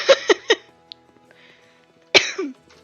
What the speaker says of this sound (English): I think I may be getting a cold because I've been developing a cough